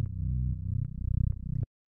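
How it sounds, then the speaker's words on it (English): A Reese bass synth built from two detuned saw waves in Ableton Operator, for a remake, plays solo as loud, thick, growling low notes with a wobbling, beating texture before stopping abruptly. "We have this Reese bass"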